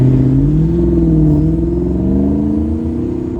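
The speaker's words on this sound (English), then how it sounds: "We're gonna go drive it now and see if it's more better." A modified Jeep drives and accelerates on the road, its mid-pitched engine note rising and revving steadily, loud and close, with no speech over it.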